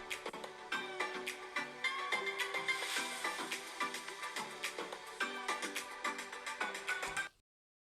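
Built-in speakers of a Samsung Galaxy Book2 Pro 15.6-inch laptop play test music at 50% volume: a fairly quiet, thin-sounding track with steady percussive hits and melodic tones that continues evenly, then cuts off abruptly.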